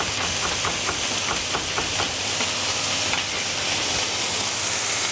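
Garlic sizzles and hisses loudly in a hot pan, with rhythmic stirring scrapes early on and a steady frying crackle throughout.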